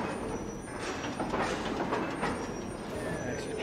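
A train rumbling past in a Batman video game, a continuous low roar with some metallic squeal on top, steady and moderately loud, heard alone.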